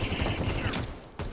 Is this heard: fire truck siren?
no